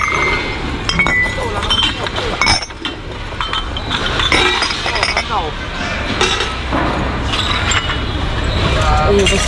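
A glass bottle breaks with a sharp clink and crunch while people dig through a dumpster, the glassy clatter mixed with rustling and people talking throughout.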